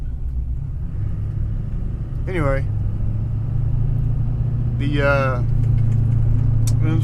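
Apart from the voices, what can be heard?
1999 Yukon 5.3 engine running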